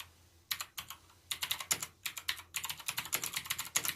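Close, crisp clicking of someone typing on a computer keyboard, in quick irregular bursts with brief pauses between, heard alone.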